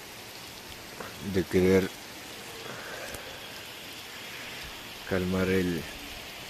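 Steady rain falls during a motorcycle trip from Pasto to Montañita. It makes a constant soft hiss throughout, and someone speaks Spanish briefly twice over it.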